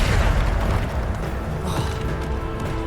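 Bombarda spell explosions in the Hogwarts Legacy video game, a dense, loud, continuous rumble of booming blasts and crashing debris with no clear gaps, sustained throughout.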